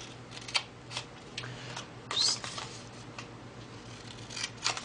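Scissors snip through paper tabs in a papercraft project, giving a series of soft, crisp cuts at irregular intervals, close and fairly quiet.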